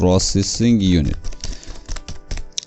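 Keys clatter on a computer keyboard while someone writes in MS Word. The quick, irregular clicks follow a short stretch of speech and carry on close and clear.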